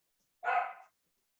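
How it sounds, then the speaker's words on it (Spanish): A single short dog bark sounds once, clear and fairly close, then fades into silence. "mi perro está ladrando y me va a volver loco"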